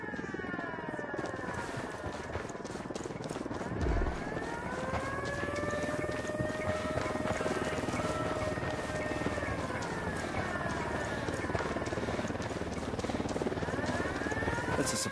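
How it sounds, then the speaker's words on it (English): A supply helicopter in the open-world shooter Ghost Recon Wildlands flies nearby, its rotor a continuous droning whir with a rising and falling whine, holding steady and moderately loud throughout. "That's a supply chopper."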